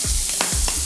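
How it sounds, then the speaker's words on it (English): Butter sizzling in a hot pan while stuffed pork chops are being cooked, a steady, loud broadband hiss with a few short low thumps and scrapes from the pan, close up and with no talking. "This is like the best sound ever. Like that sizzle that just goes."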